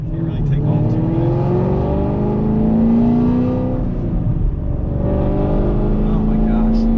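Chevy car engine fitted with headers and a dual mode exhaust, revving steadily with a deep droning note that rises and falls over several seconds, loud and close, with people talking over it.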